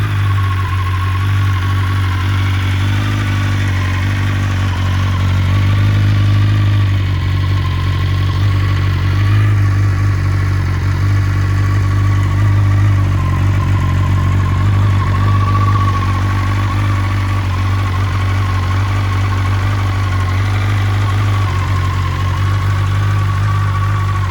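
A 2020 BMW S1000RR with a slip-on exhaust and a Stage 1 ECU flash idles steadily after a cold start, a loud, close, constant low rumble with a slight rise partway through.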